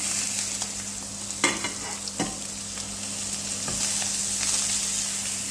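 Fish and vegetables sizzle steadily in a frying pan while being stirred, a continuous frying hiss broken by a few sharp utensil scrapes, close and fairly loud with no voices.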